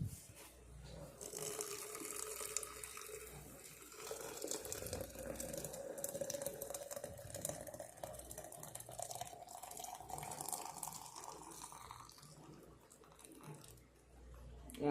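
Water pouring steadily into a container while making coffee, a continuous splashing gurgle that rises slightly in pitch as it fills, close by with no talk.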